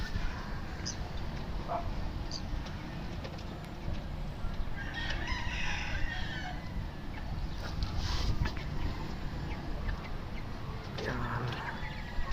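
Chickens and a rooster at a coop make scattered crowing and clucking calls over a steady outdoor background of wind and water, with occasional faint voices.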